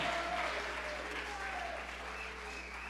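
A church congregation applauds the Lord during a Spanish-language service, steady crowded clapping held at an even level throughout, recorded fairly quietly over a low hum.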